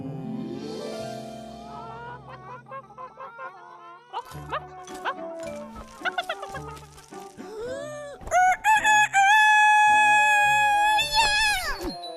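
A rooster crows several times close by, long rising and stretched calls, with clucking and other fowl sounds around it.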